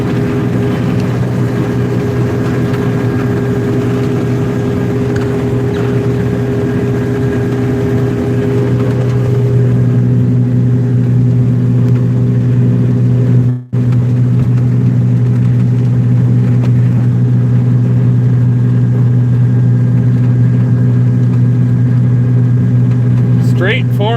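Steady low drone of a swather engine, rated at 120 horsepower, running continuously while cutting malt barley in a field; the tone deepens slightly partway through and carries on without pause.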